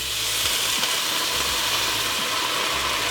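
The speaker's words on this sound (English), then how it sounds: "Now we're gonna deglaze the pan with the red wine." Red wine hitting a hot pan to deglaze it after tomato paste, for Italian ossobuco, giving a loud, steady sizzle and steamy hiss that runs unbroken throughout, with no talking over it.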